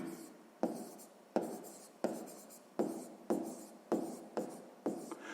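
Handwriting an equation for a sixth-grade math exercise, heard as a close pen scratching on paper in short strokes, each starting with a sharp tap and trailing off, about eight in a steady rhythm, no talking.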